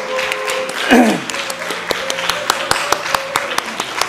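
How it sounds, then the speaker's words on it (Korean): A church congregation applauds two newly adult members in brief, scattered claps that carry over a voice speaking early on, with the clapping thinning to a few sharp hand claps. "우리 성년이 된 김채민, 조영찬 큰 박수로 환영해 주시고 축하해 줍시다."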